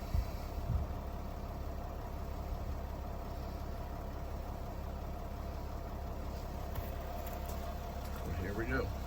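A Mercedes Sprinter diesel engine idling steadily at raised RPM during diesel particulate filter regeneration, a low continuous rumble throughout with someone talking over it.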